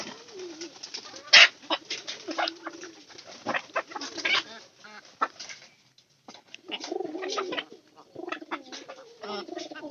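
Pigeons coo in soft, low, repeated bursts close by, with some flapping and shuffling in between and a short pause midway, alongside a rooster and hens kept together.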